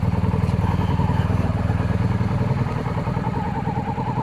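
A touring motorcycle's engine runs steadily with a throbbing, pulsing exhaust note, close and fairly loud, holding an even pace on a scenic mountain road in Norway.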